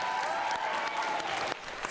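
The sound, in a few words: schoolchildren giving a round of applause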